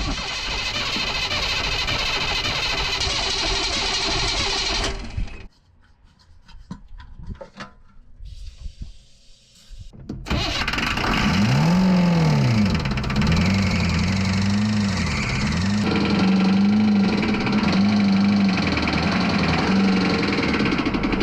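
A Chevy Squarebody truck with a P-pump 24v Cummins diesel runs loud and near. It drops off briefly to near quiet, then roars back as a sustained engine drone, rising and falling as it revs.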